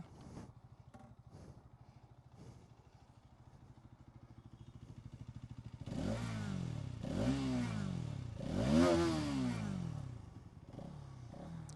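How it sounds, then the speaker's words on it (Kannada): A Hero Xtreme 250R motorcycle exhaust idles with a steady low rumble, then revs sharply three times, each rising and falling, before settling back to idle, loud and close. "ಒಂದ್ಸಲ ಎಕ್ಸಾಸ್ಟ್ ಚೆಕ್ ಮಾಡೋಣ"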